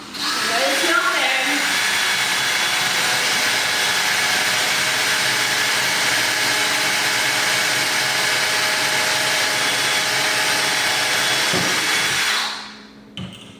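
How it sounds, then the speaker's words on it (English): A power drill whirs steadily for about twelve seconds, grinding as the bit bores holes for cabinet handles with a Kreg jig, then winds down and stops, followed by a brief clatter. "we're going to go ahead and drill these two out"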